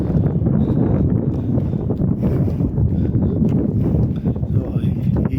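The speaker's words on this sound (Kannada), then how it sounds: "ಗಾಳಿ ತುಂಬಾ ಇದೆ" Strong wind gusts over a hilltop on the Wenlock Downs trail near Ooty, a steady, loud roar buffeting the microphone for the whole stretch without letting up.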